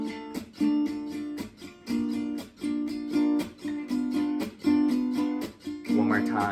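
Gypsy jazz guitar playing the intro of a tune, rhythmic strummed chord stabs and picked melody notes in repeating phrases, close and clear with no talking.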